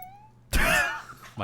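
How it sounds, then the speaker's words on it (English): A cat lets out a single loud, drawn-out sad meow close to the microphone, rising and wavering for about half a second before trailing off, with quiet room tone before and after. "cat just meowed. That was right into the mic too."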